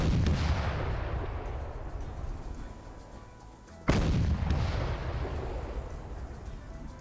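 Two heavy booms of an ork kill cannon in a Warhammer 40K game, the first at the start and the second near four seconds, each a loud broadband blast with a long rumbling decay that fills the clip.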